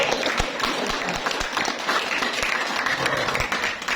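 Audience applause at a prize-giving ceremony for a 30 km cycling tournament, a dense, steady wash of many hands clapping that holds throughout, with a few sharper claps standing out.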